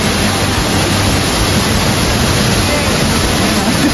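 Akmonan Falls in Tupi, South Cotabato: a loud, continuous roar of falling water, a dense, steady rushing wash heard close up with no talking over it.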